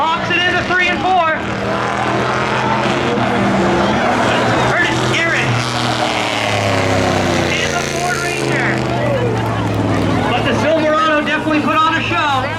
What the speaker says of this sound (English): the Ford Ranger is taking off. Oh, the Silverado wheel hops down the backstretch